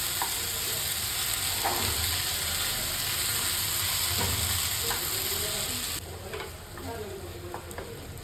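Okra fries in a pan with onion-garlic masala, jaggery and salt, giving a steady, close hiss and sizzle broken by soft scraping strokes as it is stirred.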